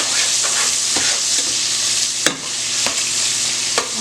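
Bacon frying in a pan for Southern fried cabbage, a loud close sizzle with sharp pops and spatters every second or so, no voices over it.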